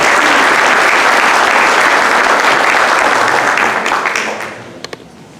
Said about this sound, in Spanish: Un fuerte aplauso para la señora Miriam Cabo Escudero.